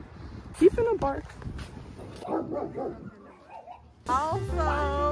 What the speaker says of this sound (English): He's gonna bark.